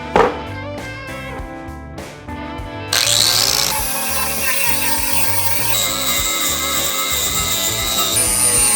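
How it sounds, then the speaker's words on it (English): Power grinder working over steel welds on a large metal seaweed sculpture, starting with a few sharp bursts, then a continuous loud grinding whine that holds steady at close range. "now we're gonna take this and grind away all these welds"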